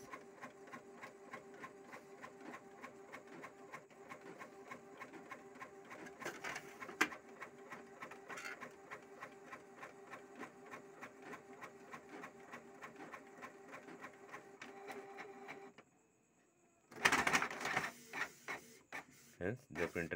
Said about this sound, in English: Hence, the printer is printing.